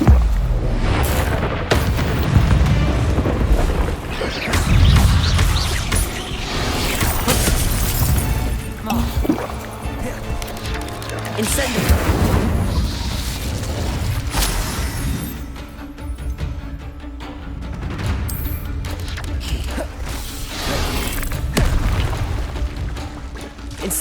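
Spell blasts such as Incendio and Confringo erupt during a Hogwarts Legacy battle in the Trials of the Keepers, dense booms and crashing bursts piling up continuously with a voice calling out over them.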